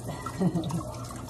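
Peeled cassava for puto is rinsed under a running tap, with a brief cluster of dripping, splashing water over a constant faint stream of flow.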